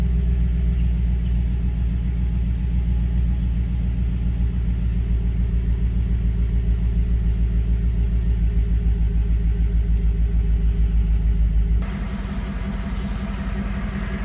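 A 2011 GMC Sierra's 5.3-litre V8 engine idles with a deep, steady, smooth rumble throughout, close and loud; the low drone shifts slightly in tone near the end.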